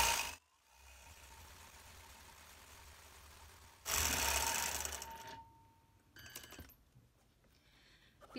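Domestic sewing machine stitching free-motion quilting in figure-eight loops across a quilt, a steady close mechanical whir that runs continuously, briefly surges louder, then breaks into shorter stop-start bursts near the end.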